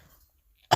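A single short, abrupt cough from a character in the Hermitcraft: Genesis story comes alone after near silence.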